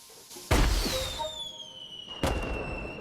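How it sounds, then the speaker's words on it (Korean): Fireworks burst in the sky in a historical drama setting, two sharp loud blasts spaced apart, each followed by crackling and a long descending whistle. "화려한 색상의 폭죽을 보고 감탄하고"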